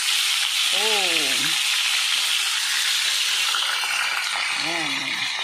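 Vegetables fry and sizzle in a hot pan, a loud, steady hiss throughout, with a voice speaking briefly twice over it.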